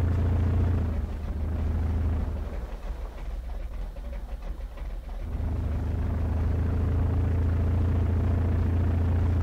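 An off-road truck engine strains while climbing an obstacle in the SpinTires game, a low, steady rumbling drone that eases and roughens briefly midway, then settles back to a constant growl.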